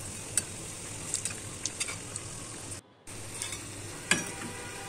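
Homemade donuts fry in hot oil, a soft, steady sizzle heard up close with scattered light bubbling pops and a brief dropout partway through, and no voices.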